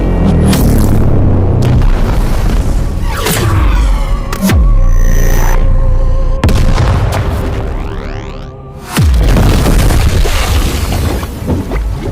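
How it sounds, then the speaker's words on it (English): Deep, booming anime sound-effect bass drops rumble repeatedly with sweeping whooshes and sharp hits, loud and dense, with a brief dip before another heavy surge. "I love those insane bass drops"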